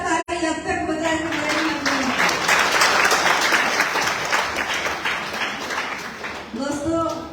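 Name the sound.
applause from an audience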